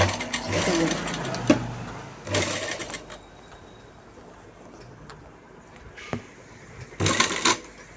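A sewing machine runs top stitching along the side cut of a garment in three short, loud bursts of fast mechanical whirring, with quieter gaps of handling noise between them.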